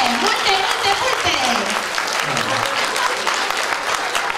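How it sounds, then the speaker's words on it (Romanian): An audience at a spring folk music show in a cultural hall applauds steadily and loudly throughout, with a voice speaking over the clapping early on. "Vă rog frumos, aplauze!"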